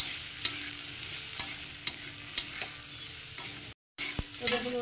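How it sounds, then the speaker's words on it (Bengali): Powdered spices such as turmeric and salt fry and get stirred in a pan for a Bengali fish curry with drumsticks and potato, giving a steady close sizzle punctuated by sharp periodic scrapes of the spatula, with a brief dropout near the end. "একটু ভাজা ভাজা করে নেব।"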